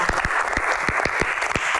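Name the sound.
audience applause for three guest stars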